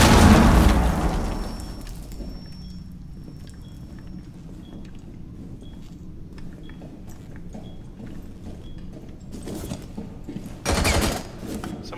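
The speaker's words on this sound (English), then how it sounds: "Detonating." Explosive detonations in the Rainbow Six Siege game during a Mad House event, a loud burst at the start followed by rumbling debris, then quieter scattered impacts and another heavy blast near the end.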